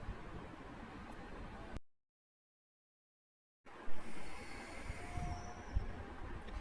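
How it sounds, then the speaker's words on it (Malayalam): Toy train running through the Mysore rail museum grounds, a soft steady rumble of wheels on track with faint squeals, broken by a short silent gap before the rolling resumes louder. "നടന്നു കണ്ട കാഴ്ചകളേക്കാൾ വേഗതയിൽ എന്നാൽ അതീവ ശാന്തമായി ഈ ടോയ് ട്രെയിൻ നമ്മെ മ്യൂസിയം മുഴുവൻ ചുറ്റിക്കാണിക്കുന്നു."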